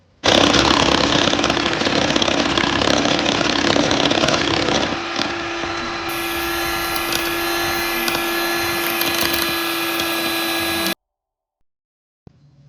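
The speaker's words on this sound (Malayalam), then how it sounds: "ഇനി നമുക്കൊരു ബീറ്റർ വെച്ചിട്ട് ഈ എഗ്ഗ് ബീറ്റ് ചെയ്തെടുക്കാം" An electric hand beater whips eggs with sugar for a chocolate cake batter, a loud steady whirring drone that runs continuously for about ten seconds with no talking, its pitch shifting slightly partway through before it cuts off.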